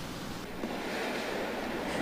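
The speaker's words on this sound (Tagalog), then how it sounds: "Nagngangalit ang alon sa Pasacao Port." Rough, churning waves at Pasacao Port in Camarines Sur during heavy rain, a continuous loud surf roar mixed with gusty wind buffeting the microphone, with no voices.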